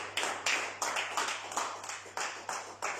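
A church congregation claps together to acclaim the Lord, a steady run of sharp, fairly loud hand claps with a slight swell and fall in each burst, without any voices.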